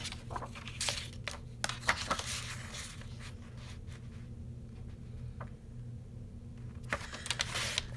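Paper is cut for a scrapbook love story mini album, with repeated scissor snips, paper rustling and handling noises close by, scattered irregularly over a quiet background.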